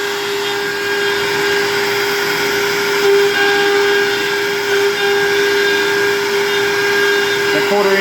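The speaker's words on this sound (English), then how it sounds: "That 1/4 inch bit though is gonna make light work of all them 3/8 holes." A power drill with a 1/4 inch bit runs continuously, boring a series of holes with a steady whining drone and a constant tonal hum, loud and close, with dust collection running.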